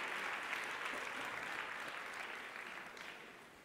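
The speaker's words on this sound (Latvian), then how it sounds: "Aplausi!" Applause from an audience at a talk on team building and humanity, steady dense clapping throughout, fairly distant and slowly fading toward the end.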